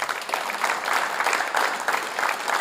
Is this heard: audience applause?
yes